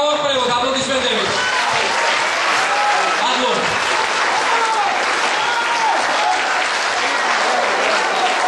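Applause from a concert audience at a gala anniversary evening, loud and sustained throughout, a dense wash of clapping with crowd noise and some voices mixed in.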